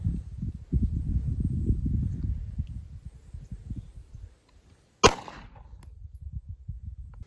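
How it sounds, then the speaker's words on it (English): A single sharp 9mm pistol shot cracks out at a bulletproof vest panel, loud and close, standing out against quiet background rustling and handling noise before and after. "Now I'm going to shoot it with the 9mm."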